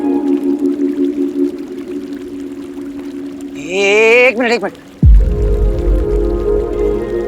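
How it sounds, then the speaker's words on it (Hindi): In an animated show, water sounds with a low, gushing splash suddenly, then keeps running steadily. Before it come a cartoonish voice and a short wobbling squeal. "मुझे पानी की आवाज आ रही है।"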